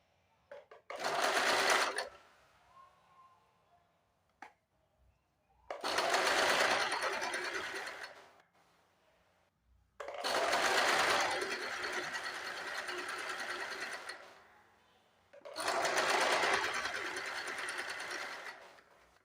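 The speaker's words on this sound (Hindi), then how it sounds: "यहाँ से सीधी सिलाई लगा देनी है" An electric sewing machine stitches a straight seam along a blouse strip in four steady whirring runs of a few seconds each, separated by quiet pauses, close up and with no talking.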